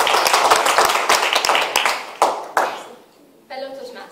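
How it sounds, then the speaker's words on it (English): Toastmasters meeting audience applauding in a burst of dense clapping that dominates the first few seconds, then fades out as a voice begins speaking. "Where is the clap?"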